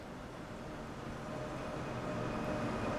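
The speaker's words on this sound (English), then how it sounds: "Your train has arrived, so let's climb aboard." A train pulling into a station in Train Sim World 3, a low steady rumble that slowly swells and grows louder over a few seconds, with no talking.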